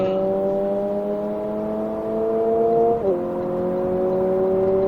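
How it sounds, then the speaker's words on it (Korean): Lexus UX 250h F Sport hybrid engine drones steadily while driving on a highway, a smooth held tone that dips briefly in pitch as if shifting, then settles back, loud and close inside the cabin. "저속에서는 엔진 음이 조금 들리긴 해요."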